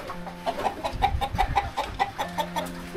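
Chickens cluck softly inside their coop on an off-grid homestead, a string of short, quiet clucks and murmurs close by in the evening.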